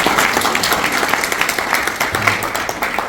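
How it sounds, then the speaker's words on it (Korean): Audience applause welcoming a speaker to a marketing lecture, a full, continuous round of clapping from a large crowd, steady and close throughout. "큰 박수로 모시겠습니다"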